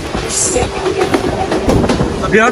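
A train pulling into Belgachhi railway station on a journey between Faridpur and Kalukhali, with steady rumbling and clattering wagons mixed with crowd murmur and voices close by.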